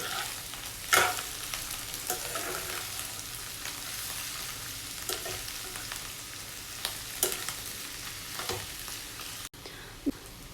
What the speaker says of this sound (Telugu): క్యాబేజీ అంతా కూడా తాలింపులోకి బాగా కలిసేటట్టు మిక్స్ చేసుకోవాలండి